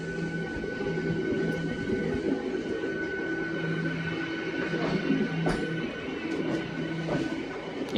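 A Warangal–Secunderabad MEMU train runs slowly past a work site, giving a steady, moderate rolling rumble with a faint sustained whine and a few brief knocks, heard from inside the train without speech.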